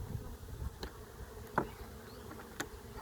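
Faint buzzing of honey bees at an overwintered nuc hive, with a few individual insects droning past close by against a quiet background hum.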